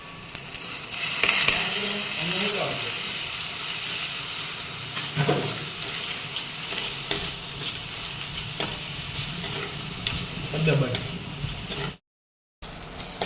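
Dried onions fry in hot oil in a pan with a continuous loud sizzle, while a utensil scrapes and stirs at intervals. The sound is close and carries no talk, then cuts out briefly near the end.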